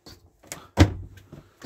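Cupboard door in a Swift Bolero 714 motorhome being closed, a few soft knocks followed by one firmer, close click-thud as it latches, then quiet handling noises.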